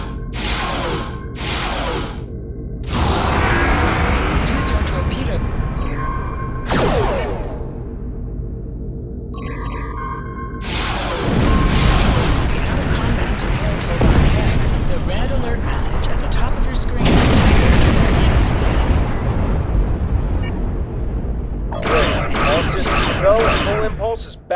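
Starship under attack in a Star Trek game: bursts of explosive whooshes and weapon fire come in waves, loud and close, mixed with synthetic alert tones and a computer voice talking.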